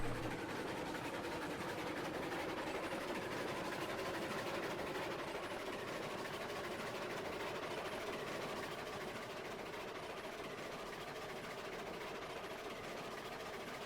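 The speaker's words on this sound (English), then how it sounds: "I've always loved watching trains just snake through track." Trains run along the track in Railroads Online, giving a steady, moderately loud rumble with low engine drone and rolling clatter that holds evenly throughout, with no talk.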